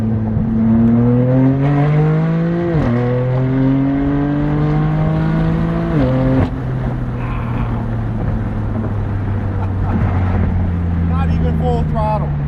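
Straight-piped BMW M4 F82 at full throttle, a loud droning exhaust that climbs in pitch, drops at each gear shift and climbs again, with wind rush throughout.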